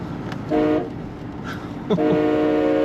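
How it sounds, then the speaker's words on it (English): A 1976 Buick Electra Limited two-door's horn blares twice, a short blast and then a longer one, its deep chord sounding loud, close and rather like a train horn. "Wow, does that sound like a train. Awesome horn in this car."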